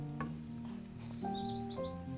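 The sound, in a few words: onion frying in a pan before chicken is added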